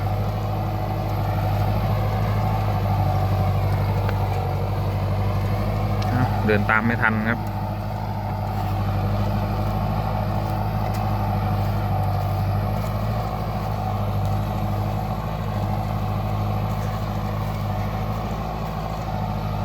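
A steady, low diesel engine of a turbocharged Kubota L5018SP farm tractor drones throughout, with a brief rattling clatter partway through; someone speaks briefly over the running motor.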